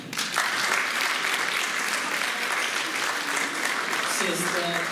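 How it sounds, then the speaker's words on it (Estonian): Audience applause at a choir concert, dense continuous clapping from a crowd, loud and steady throughout, with some voices beneath it. "suur aplaus neile!"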